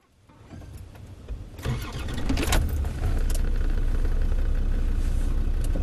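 A car engine starts up and settles into a steady, loud drone as the vehicle sets off through a forest in pouring rain, with a low rumble filling the background throughout.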